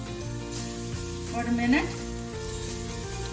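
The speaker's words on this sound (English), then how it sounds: "I have about 10 cloves of garlic, chopped. Put that in here. Cook a little bit." About ten cloves of chopped garlic sizzle steadily in hot oil in a pan, a soft continuous frying hiss beneath a short spoken remark.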